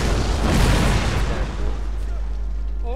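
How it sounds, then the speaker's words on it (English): An artillery volley in Napoleon Total War, a heavy rolling boom of massed cannon fire that swells and then decays into a low rumble, with a voice talking over it. "look at that big artillery volley"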